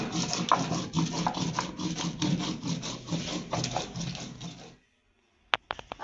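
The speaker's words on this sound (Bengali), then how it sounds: "এখন আমি শিলনোড়ার সাহায্যে আদা, কাঁচা লঙ্কা আর শুকনো লঙ্কা বেটে নেব।" Rhythmic rubbing and grinding of ginger, green chillies and dried chillies on a stone slab with a grinding stone, close up, a steady back-and-forth scraping for several seconds that stops, followed by a few sharp taps.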